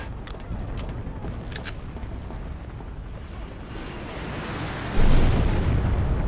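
Fuel barrels exploding in the video game Freedom Fighters: a steady, heavy roaring rumble swells into a louder, deep blast near the end and then keeps rumbling.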